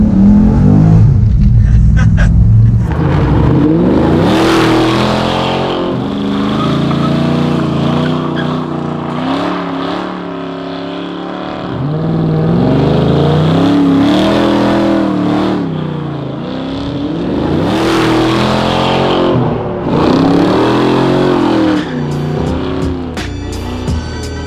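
A 650 hp 1985 Chevy S10 sleeper pickup revs hard and spins its tires, loud and close, with surging engine pulls, rising and falling pitch and squealing rubber over about twenty-four seconds, with no talk.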